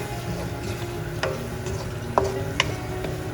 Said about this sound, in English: Give this a nice mix.